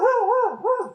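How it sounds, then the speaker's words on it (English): A dog lets out one brief, loud, close bark that bends into a whiny, yelping tone before cutting off. "sorry about the barking"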